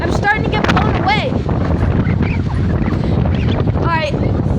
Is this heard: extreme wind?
yes